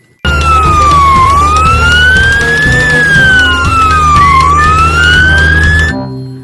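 Toy ambulance siren wailing loud and close, a rising and falling electronic tone repeating in slow sweeps over a low buzz, starting abruptly and cutting off at the end.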